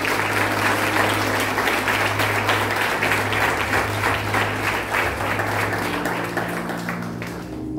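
A church congregation applauds loudly during a worship service, a dense and steady wall of clapping that fills the room for the full stretch and eases off slightly toward the end, with a faint sustained tone underneath.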